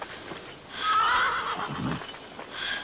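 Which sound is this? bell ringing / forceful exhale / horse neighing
horse neighing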